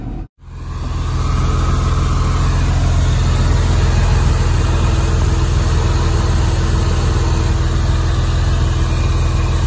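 A Porsche 911 engine idles steadily after a water pump replacement, a continuous even rumble close by, with a brief dip at the start before the drone settles and holds.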